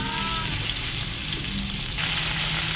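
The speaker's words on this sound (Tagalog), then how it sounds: "Maggisa ng sibuyas, bawang, at pati na rin luya." Onion, garlic and ginger sauté in hot oil for a Filipino coconut-milk shrimp and crab dish, giving a steady, dense sizzle with a soft stirring scrape near the end, close and alone without speech.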